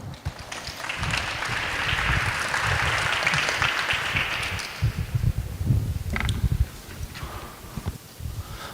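An audience at an APEC 2025 commemoration event applauds a speaker's introduction, a broad wash of clapping that swells for several seconds, then thins into scattered claps and shuffling before fading.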